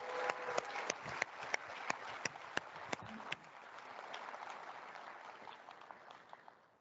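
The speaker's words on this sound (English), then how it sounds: "let's give a big round of applause to Alejandro and Chris" An audience at a LabVIEW developer conference claps for two presenters, starting with crisp separate claps that blend into a denser, softer patter before fading out, fairly quiet overall.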